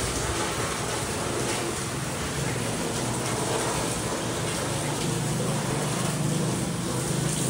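Heavy rain during Typhoon Tino, a dense continuous hiss of falling water that stays steady and fairly loud with no pauses.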